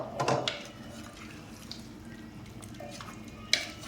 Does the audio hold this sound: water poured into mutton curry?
yes